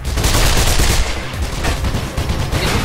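Gunfire in the video game Mirror's Edge: loud, rapid, continuous shooting that fills the whole stretch without pause.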